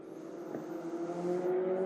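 A Formula Regional race car on the Barcelona circuit drones past at high revs, a steady, moderately loud engine tone swelling slightly as it goes by.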